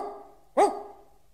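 Dog in an animated fairy tale letting out a single loud, close bark in an otherwise quiet moment.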